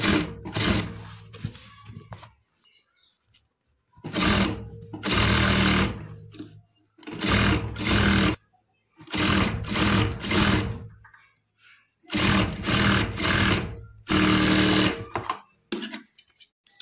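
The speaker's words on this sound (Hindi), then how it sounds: "नीचे पे इसको सिलाई लब की सिलाई मार लेते हैं" Sewing machine stitching the bottom hem of a lehenga blouse, running in several loud bursts of a few seconds each, separated by short pauses.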